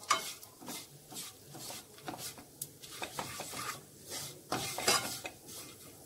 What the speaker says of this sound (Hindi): इसे हम धीमी आंच पे लगभग 2 मिनट रोस्ट करेंगे।